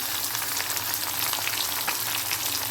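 Onions are tossed into a pan of garlic and ginger already frying in oil for a Thrissur-style beef and tapioca curry, and a loud, steady sizzle carries on throughout.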